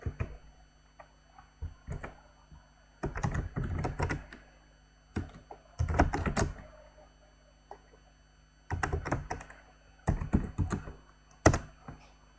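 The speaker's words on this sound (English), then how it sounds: "I will type their Twitter." Bursts of computer keyboard typing in a quiet room, several short clusters of rapid key clicks separated by pauses, moderately close and fairly soft.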